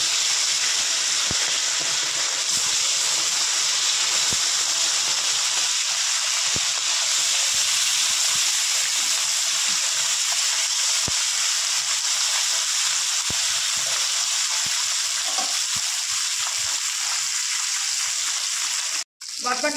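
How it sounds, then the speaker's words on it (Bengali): Bata fish frying in hot oil, a steady broad hiss and sizzle holding evenly throughout, close and fairly loud, with a brief clatter near the end. "এবার বাদ বাকি মাছগুলো আমি আবার ভেজে নেব।"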